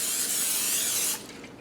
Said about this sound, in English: I'm spraying just a standard baking dish